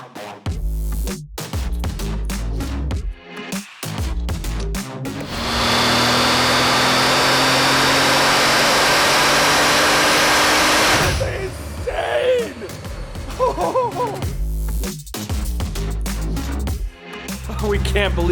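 Bugatti Veyron engine roaring at high revs for several seconds on a dyno with a lift, a loud steady sustained howl that cuts off abruptly, with people talking before and after.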